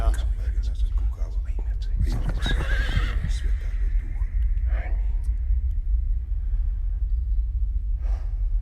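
A horse whinnies in a music video, a shrill neigh rising over a dense musical backdrop, with hoof clip-clops and people talking over it.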